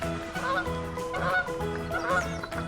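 A cartoon wild goose honks three times in a rhythmic sequence of loud, nasal calls, close and clear with no other sounds.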